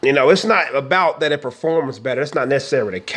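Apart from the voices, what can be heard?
No distinct noise like a dog, phone or traffic.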